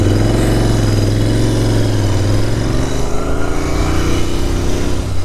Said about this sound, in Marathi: गाडीचा आवाज पुन्हा एकदा मस्त पहिल्यासारखा झाला आहे